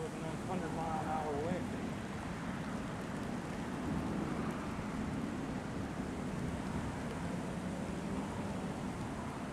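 Strong wind roars steadily outdoors as a storm approaches, a continuous broad rushing noise buffeting close to the microphone throughout.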